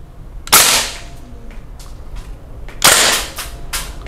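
Two sharp single shots from an airsoft gun fired on a range, loud and close, spaced a couple of seconds apart with a few faint clicks and mechanical taps between them.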